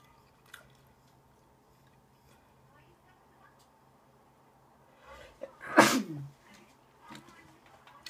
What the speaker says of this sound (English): I just blew a big chunk of food out of my mouth when I sneezed